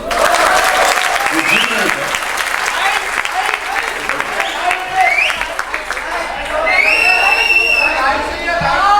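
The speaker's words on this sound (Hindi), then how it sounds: "ताली बजनी चाहिए।" A studio audience on the Kaun Banega Crorepati quiz show set applauds with sustained, loud, dense clapping and some cheering, while a voice talks over it.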